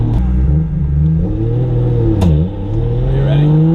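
A Nissan Skyline making about 550 wheel horsepower revs hard at full boost, its loud close engine note climbing and wavering, with a brief dip as the pitch drops and rises again.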